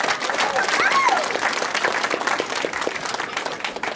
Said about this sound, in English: One more applause for Jeremy Vogt.